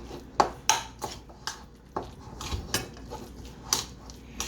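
Spoon scraping and clinking against a bowl while a cheese, beef and basil filling for stuffed shells is stirred, with irregular sharp clanks and soft scrapes close by, no talking.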